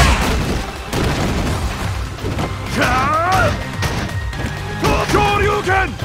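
Loud Street Fighter Ultra IV effects as Ryu fires a Hadouken fireball: booming impacts and blasts with sharp shouted attack calls twice, layered over constant busy game noise.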